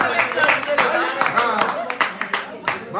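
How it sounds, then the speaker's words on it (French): Audience claps for a guest at a live dinner show, a rhythmic burst of hand claps mixed with lively talking voices close by. "Applaudissez pour elle encore."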